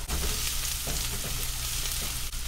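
Garlic and onion sizzling and frying with cabbage in a hot pan, a steady close crackle with soft stirring scrapes and no talk.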